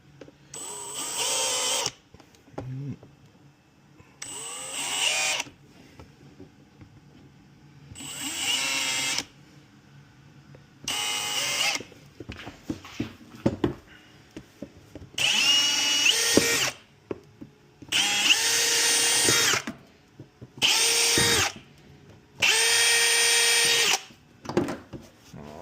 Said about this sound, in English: So I'm just going to drill these holes